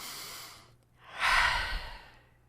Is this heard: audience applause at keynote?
no